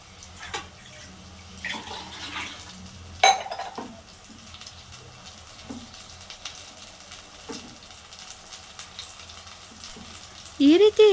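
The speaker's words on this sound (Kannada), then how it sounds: "ಮಸಾಲೆನ ಹಾಕ್ಬಿಟ್ಟು ಎಣ್ಣೆಯಲ್ಲಿ ಚೆನ್ನಾಗಿ ಫ್ರೈ ಮಾಡಬೇಕು" Masala spice paste frying in oil in a pan for ennegayi gojju, a steady low sizzle with scattered clinks and stirring scrapes, a few louder knocks of utensil on pan and a burst of activity near the end.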